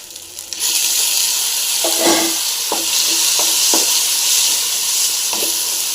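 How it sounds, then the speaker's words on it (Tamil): Tomatoes frying in a pan for a ridge gourd and coconut water dish, a steady loud sizzle with a few scraping stirs of a spoon at intervals, close up and with no talking. "தக்காளி வந்து நல்லா ஃப்ரை பண்ணிக்கலாங்க"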